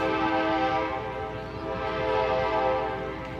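Trains pulling into a station, a sustained multi-tone horn sounding over a low rolling rumble of rail cars, steady and moderately loud.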